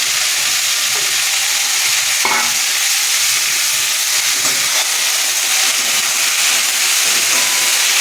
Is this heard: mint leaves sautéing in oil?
yes